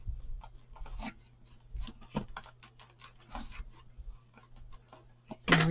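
Paper edge being burnished on a handmade box craft project, quiet rubbing and scraping strokes in short bursts, close and soft, ending with a brief louder scuff.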